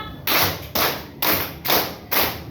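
Five even rhythmic hand claps from a group ring out close and loud, spaced about half a second apart with no talking over them.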